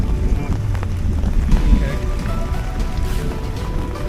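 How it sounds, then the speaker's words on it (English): Rain and gusty wind at a Bribie Island campsite, a steady patter under blustery gusts, close and moderately loud, with a voice speaking briefly over it. "that rain is definitely coming in at the moment"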